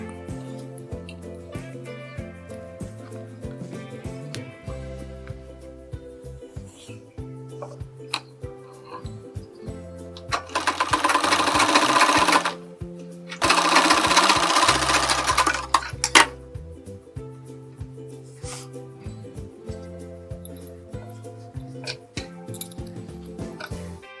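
A sewing machine stitches a sleeve for a blouse design, its steady mechanical whir and clatter running throughout, with two louder, faster bursts of stitching in the middle and no speech.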